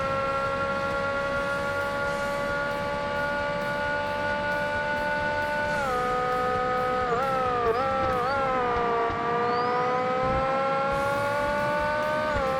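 Race car lapping a track in Forza Motorsport on Xbox, its steady high engine whine holding pitch, then dipping and climbing through gear shifts and corners, loud and close with no talk.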